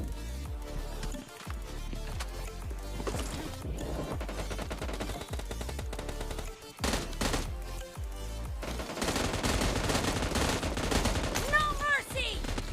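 An M16A4 rifle fires in PUBG Mobile, loud rapid gunfire crackling in repeated bursts, with more shots joining densely toward the end amid ongoing game noise.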